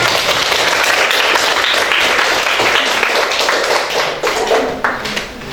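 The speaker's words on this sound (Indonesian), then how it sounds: "Aplaus untuk kita semuanya." An audience in a classroom teaching session bursts into loud, sustained applause, a dense patter of many hands clapping that thins out toward the end.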